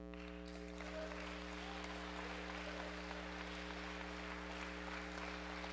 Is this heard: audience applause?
yes